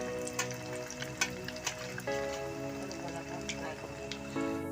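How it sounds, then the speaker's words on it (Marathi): Dal bhatti dough dumplings frying in hot oil, a continuous crackling sizzle with dense popping bursts, a brief louder surge as more go into the pan, close and steady throughout. "आता आपण याच्यामध्ये भट्टी टाकून घेणार आहोत."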